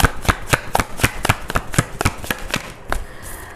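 A deck of tarot cards is shuffled by hand in quick, crisp riffling bursts, about a dozen sharp flutters in an uneven rhythm, close and fairly loud with no voices.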